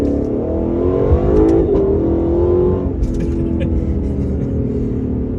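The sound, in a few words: Lexus LC500 engine revving under acceleration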